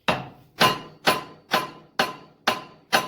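A hammer gives seven evenly spaced, sharp metallic taps on a Rockwell spindle bearing assembly, each ringing briefly before the next, close and clear with no talk.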